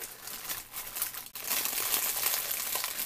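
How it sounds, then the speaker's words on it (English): Gift wrapping around a handmade clothespin swap package crinkles and crackles close up, loud and continuous, with a brief pause before the rustling resumes more intensely. "there's a lot of crinkling because there is a lot of wrapping on here"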